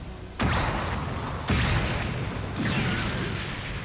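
Three bursts of ribbons exploding during a Dragon Ball fight in a video game, each a loud booming crash with a sharp onset, roughly a second apart, followed by a sustained roar. No talking.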